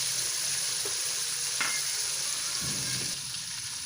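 Black pepper dropped into spices dry-roasting in a pan for zeera pulao, giving a steady close sizzle and crackle with a couple of soft stirring scrapes and no talking.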